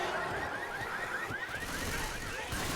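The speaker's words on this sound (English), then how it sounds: "they set the car alarm off." A car alarm wails in a multiplayer video game match, its repeating rising whoops cycling steadily under dense gunfire and game noise, fairly loud and continuous throughout.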